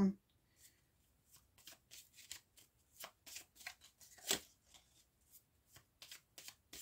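Tarot cards being shuffled by hand in quick, soft riffling flicks, close and quiet, with a steady uneven rhythm throughout.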